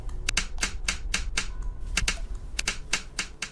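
Sharp, quiet clicks of a light switch flipping on and off in another room of a horror video game, arriving in an irregular rapid series of about a dozen snaps with low rumble beneath.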